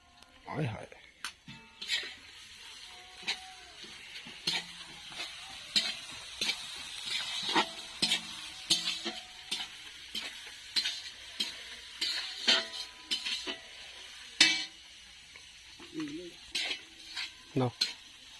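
Onion, ginger and garlic fry in a pan with a low sizzle, broken by frequent clinks and scrapes of a stirring spoon against the pan; a person talks throughout.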